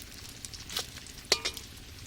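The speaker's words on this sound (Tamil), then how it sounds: "ஒரு கப் முந்திரி, ஒரு கப் கருப்பு திராட்சை. அப்படி நல்லா பொன்னிறமாக வறுத்துக்கலாம்." Cashews and black raisins frying in ghee until golden, a soft low sizzle with a few brief sharp crackles and stirring clinks, fairly quiet and close.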